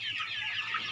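Young laying hens on a farm cluck in a soft, busy chorus of overlapping calls at moderate distance, with no talking.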